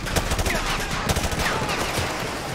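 Sustained automatic gunfire in Call of Duty: Modern Warfare 2 Remastered, a steady rattle of loud, closely spaced shots running the whole stretch without a break.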